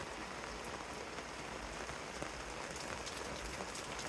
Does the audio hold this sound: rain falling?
yes